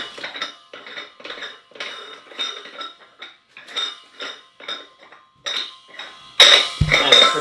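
Screw-on protective cap of a gas tank, which shields the valve stem, being handled: a string of short metallic clinks and scrapes in an irregular rhythm, close up, ending in a louder clatter.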